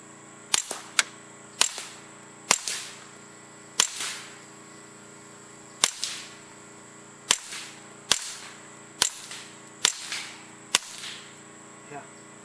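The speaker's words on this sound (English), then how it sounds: "this is the subsonic ammo with the suppressor installed" Suppressed subsonic .22LR gunshots through a Griffin Armament Optimus silencer, about a dozen sharp, fairly quiet cracks at irregular intervals, each followed by a brief tail, with a steady high hiss behind them.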